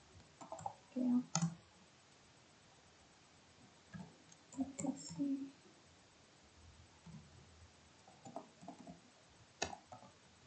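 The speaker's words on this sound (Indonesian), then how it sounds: "Di sini kita ketik" Sparse, light clicks come in small bursts as commands are typed on a computer keyboard during a server administration exercise, with quiet gaps between them and a little faint voice in the background.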